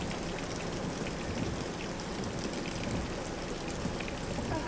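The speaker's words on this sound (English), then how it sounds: "It's pouring rain, guys." Steady pouring rain with a dense, even hiss of drops beating on surfaces, continuous and moderately loud throughout with no voices.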